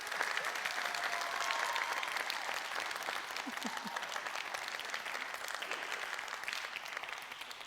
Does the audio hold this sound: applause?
yes